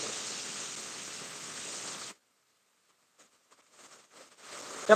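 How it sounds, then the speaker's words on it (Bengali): Heavy rain falls in Kabirkati, Patuakhali, Barishal, as a dense, even hiss for about two seconds. It cuts off abruptly, leaving near silence with a few faint patters and rustles. "আজকে অনেক বৃষ্টি হবে সারাদিন হয়তো বৃষ্টি কমবে না"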